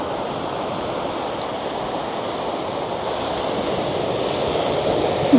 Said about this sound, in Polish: a tu jest przepiękna plaża